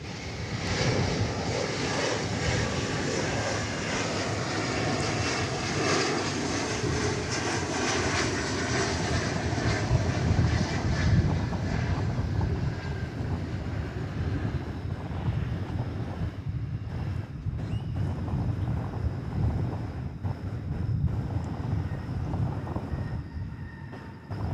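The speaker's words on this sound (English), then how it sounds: "So that was the Embraer 170 from Manhattan, Kansas" An Embraer 170 airliner at DFW Airport produces a loud, sustained jet engine roar mixed with gusty wind buffeting, holding steady for most of the stretch before thinning out slightly near the end.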